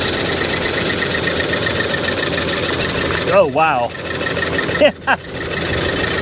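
A Toyota Tundra engine idles with a rough, uneven rumble from misfiring ignition coils on cylinders 1 and 4, steady and close, while a voice briefly exclaims over it.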